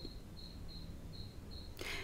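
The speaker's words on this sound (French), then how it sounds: "Est-ce que vous écoutez les grillons?" A single cricket chirping at night from just outside a window, short regular high trills repeating about every half second, close and clear over low background hum, ending with a brief rustle.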